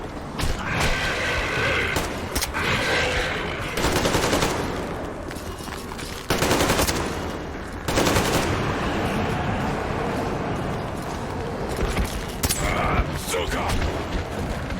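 Gunfire erupts in the Metro video game during a fight against mutants: dense machine-gun bursts and sharp shots come in loud clusters, broken by brief pauses, with shouted voices mixed into the chaos.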